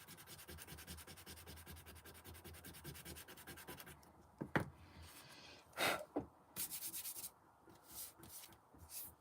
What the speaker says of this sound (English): I'm just going to try my sand eraser very lightly to just quickly whiz over that